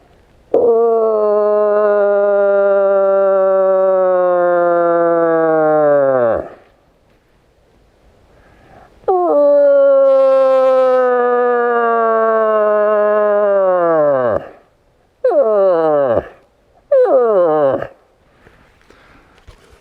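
A person imitates a cow moose through a birch bark horn, making two long, drawn-out nasal calls that sag in pitch at the end, followed by two short grunting calls. The calls are loud and close, with quiet gaps between them.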